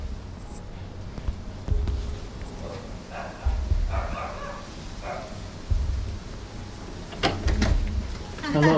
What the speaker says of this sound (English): I can hear him barking now.